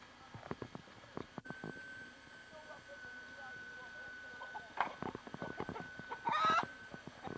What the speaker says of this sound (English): Now be kind to the chicken.